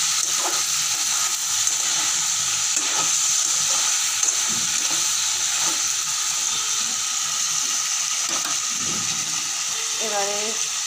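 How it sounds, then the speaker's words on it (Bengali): About half a kilo of chicken meat fries in a pan for a curry, a steady close hiss and sizzle with faint stirring scrapes, and a brief voice-like sound near the end. "মাংসটা ভাজা হয়ে গেছে"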